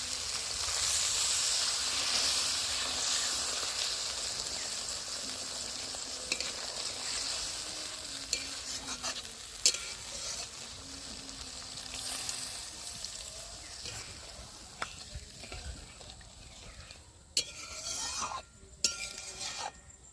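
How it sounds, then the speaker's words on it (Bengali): A pointed gourd and poppy seed curry sizzles in a pan as water goes in, a broad hiss that eases into a softer simmer, followed by scattered clinks and scrapes of a spoon against the pan. "এবারে পরিমাণ মতো জল দিয়ে দিচ্ছি।"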